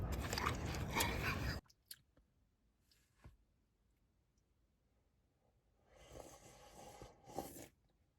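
Watermelon eaten inside a parked car at night by a dark forest: juicy crunching bites up close, a loud burst at the start, then near silence with faint clicks, then another wet chewing stretch.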